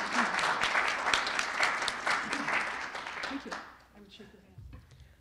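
Audience applause welcoming speaker Terry Williams at a talk, a sustained burst of clapping from a crowd that fades out after about four seconds.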